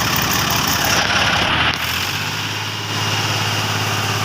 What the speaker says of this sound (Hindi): तो ट्रैक्टर यहाँ पर फंस गई